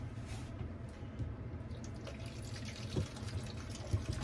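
Water trickles and drips quietly and irregularly onto paper bedding in a worm farm bucket, close by, with a few slightly louder drops against a soft watery background.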